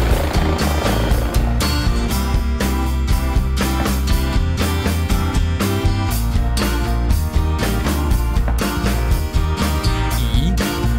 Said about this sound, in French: H, hélicoptère.